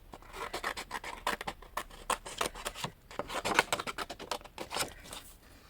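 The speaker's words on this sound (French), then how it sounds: "Petit ciseau pour découper." Small scissors cutting with rapid, close snipping and rubbing strokes in an uneven rhythm, fairly quiet, with no talking.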